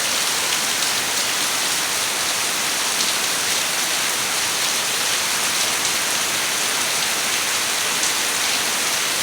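A heavy downpour keeps up a constant loud wash of rain striking surfaces nearby, even and unvarying from start to finish, with no one speaking.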